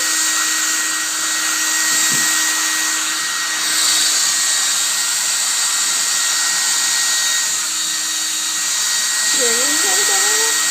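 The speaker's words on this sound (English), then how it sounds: "I'm going to show you what my dog thinks of the hair dryer." A hair dryer runs steadily and loudly throughout, a constant close whir with a dog's whining cries rising over it near the end.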